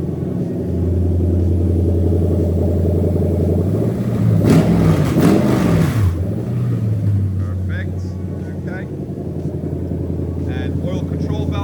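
Toyota 1UZ-FE V8 with VVT-i during a drive-by-wire test: a steady loud idle rumble that swells into a brief rev in the middle, then settles back, with a voice talking over it.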